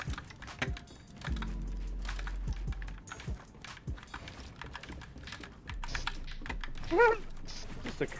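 Computer keyboard typing during video game play: rapid, irregular clusters of close key clicks and taps, with scattered game sounds and a brief voice in the background.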